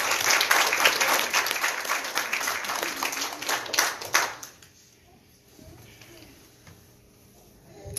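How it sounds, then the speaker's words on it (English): A church congregation at a Wednesday revival service claps hands in praise, a dense burst of clapping for about four seconds that then drops off abruptly to quiet room tone. "Give the Lord a hand clap of praise."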